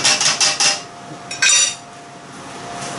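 Spaghetti stirred in a metal pan, a few quick clinks and scrapes of utensil against the pan in short bursts, then a quieter pause and another brief clatter.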